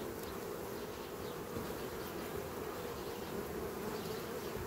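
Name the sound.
honey bees buzzing, preparing for winter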